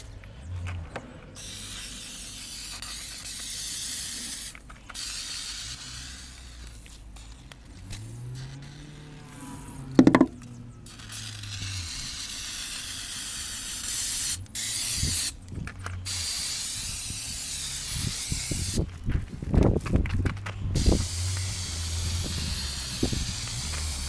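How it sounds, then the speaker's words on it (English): Carpet glue sprayed from a can inside a VW Jetta Mk2 during restoration: long broad hissing bursts with pauses between them, some clunks and handling noise, no talk. "what you want to do is spray some form of carpet glue"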